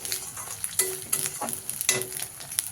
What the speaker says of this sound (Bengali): আমার আদা রসুনটাকে ভালো করে কষিয়ে নেব যতক্ষণ না ওর কাঁচা গন্ধটা চলে যায়